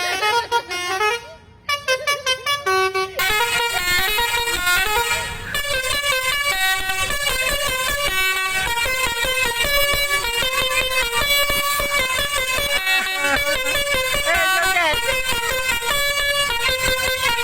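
Telolet bus horns sound in stalled traffic at Puncak, Bogor, playing loud, repeated musical melodic toots in rising and falling patterns, near and continuous after a few brief opening blasts.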